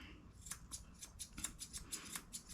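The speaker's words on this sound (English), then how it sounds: "I use these scissors constantly." Curved grooming scissors snip steadily through a Cavapoo's fur, a rapid regular series of crisp metallic cuts, close and quiet with no speech.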